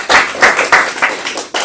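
A real estate training audience applauds in a few short, loud bursts of clapping, close and lively, with brief gaps between surges.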